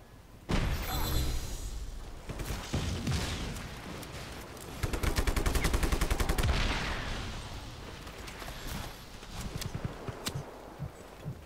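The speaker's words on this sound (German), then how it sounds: "da oben ist auch noch so ein Idiot, der meint, auf mich schießen zu müssen" Gunfire in the video game Just Cause 3, dense rapid bursts and sharp shots mixed with game noise and a rattling automatic volley midway, loud and continuous throughout.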